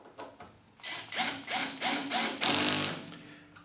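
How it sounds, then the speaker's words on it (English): A cordless drill on its lowest torque setting drives screws into a piece of oak: several short whirring bursts, each a second or less, then a longer final run that stops as the clutch slips. Close and fairly quiet, with no talking. "I'm now going to proceed to screw some screws into this odd piece of oak."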